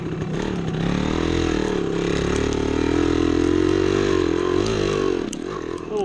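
A 1975 Yamaha DT250 two-stroke motorcycle engine drones loudly and steadily as the throttle is held open, with slight rises and dips in revs, heard close up on a woods trail.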